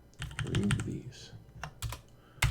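Keys clatter on a computer keyboard during Gentoo Linux setup: a quick burst of clustered taps, a pause, then a few louder isolated keystrokes, close-miked, with no talk.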